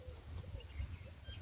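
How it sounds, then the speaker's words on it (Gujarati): Several birds call and coo among trees on a village morning, overlapping soft chirps and cooing notes at moderate distance over a low background rumble. "તો આમાં જો ઘણા બધા પક્ષીઓ બોલે છે."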